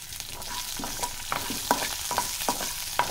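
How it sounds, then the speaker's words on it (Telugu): Chana dal, urad dal, cumin, mustard seeds, curry leaves and green chillies temper in hot oil, a crackling sizzle broken by sharp clinks of a spoon stirring against the pan. "తర్వాత కొంచెం ఆయిల్ వేసుకొని పచ్చెనపప్పు, మినప్పప్పు, జీలకర్ర, ఆవాలు, కరివేపాకు, పచ్చిమిర్చి ముక్కలు"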